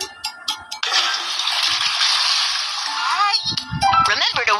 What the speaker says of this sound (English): Remember to flush the toilet.